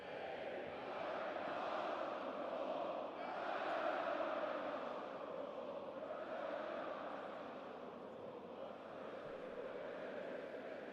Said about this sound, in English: The crowd just getting back into full voice then